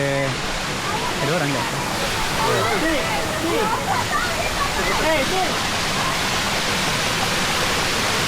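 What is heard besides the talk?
waterfall at 7 Puteri waterfalls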